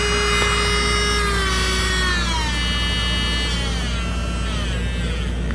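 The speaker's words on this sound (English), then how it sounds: "Do you hear it? It's at 30 RPM and there's hardly any vibration." A Melodysusie SE1-Selene rechargeable e-file nail drill runs at low speed with a smooth, steady electric whine close by, its pitch drifting slightly as the speed changes, with no voices.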